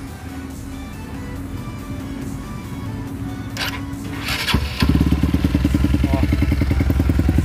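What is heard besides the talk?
Honda Titan 150 motorcycle engine running with muffler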